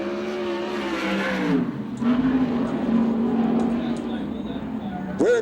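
Sprint car number 38 on a USAC/CRA qualifying lap at Phoenix, engine howling then dropping and surging again as it powers through a turn, loud and close, with an announcer speaking over it.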